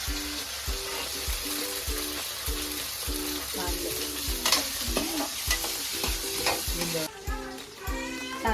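Green chillies fry in a pan while being stirred, a steady sizzle broken by regular scraping strokes of the spoon about every half second, close and loud with no talk.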